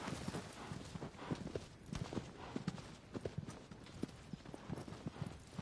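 Horse hooves clip-clop in a video game, a quick, steady run of close hoofbeats at a moderate level, with no clear voices.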